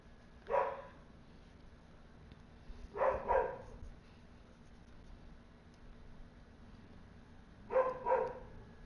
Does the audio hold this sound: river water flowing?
no